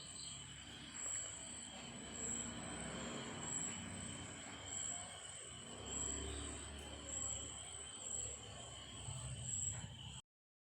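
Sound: train passing in a park

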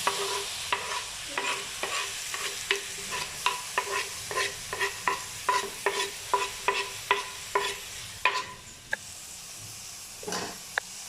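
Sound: onions and tomatoes frying and being stirred in pan

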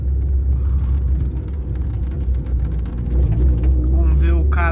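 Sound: car being driven, engine running

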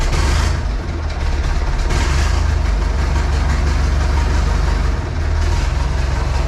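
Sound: Zetor 5211 tractor engine idling

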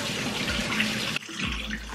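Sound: water running in kitchen sink for washing salmon

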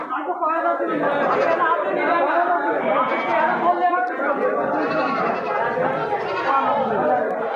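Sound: goats bleating at market

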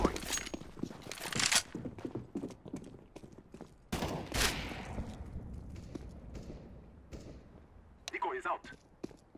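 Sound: decoy grenade gunfire sounds in Counter-Strike: Global Offensive video game

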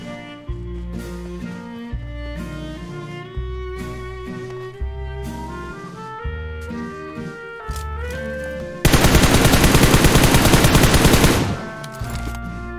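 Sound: gunfire in the video game PUBG Mobile

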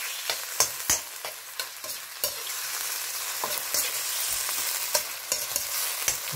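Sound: frozen raw prawns stir-frying and sizzling in a pan

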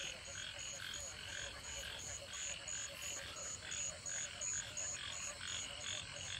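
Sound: frogs croaking in a field after heavy rain

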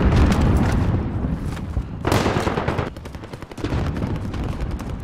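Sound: rocket launch in Call of Duty: Modern Warfare video game

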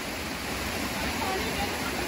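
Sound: waterfall in Maldevta, Dehradun

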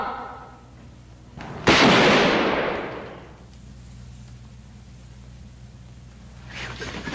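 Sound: gunfire

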